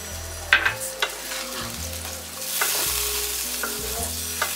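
A spice paste fries and is stirred in a pan, heard as a loud, close sizzle with spoon clatter. Partway through, water is poured in and the hiss swells briefly.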